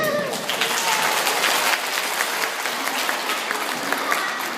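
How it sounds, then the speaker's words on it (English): Loud, sustained applause from an audience at a dinosaur puppet show fills the whole clip, dense clapping with no pauses. "please give a warm round of applause to our plesiosaur puppeteers."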